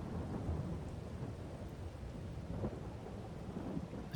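Thunder and steady rain in Farming Simulator 22: a deep continuous rumble rolling under a dense hiss of falling rain, fairly loud and unbroken throughout, with no voices.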